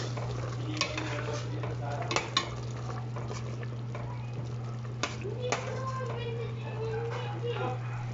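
Miswa noodles are stirred into a pot of homemade soup, with light clinks and scrapes of a utensil against the pot, a few sharper knocks, a low steady hum, and faint talk in the background.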